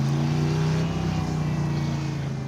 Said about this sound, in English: Oh, listen to it running at RPM.